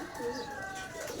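Racing pigeons in a Filipino breeder's loft coo softly and continuously, a faint, low warbling bird call heard up close with little else around.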